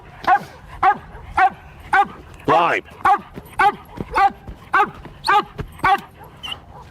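An LAPD K-9 police dog barks in steady, repeated bursts during protection training, loud and close, with a whimpering yelp partway through and a voice speaking briefly among the barks.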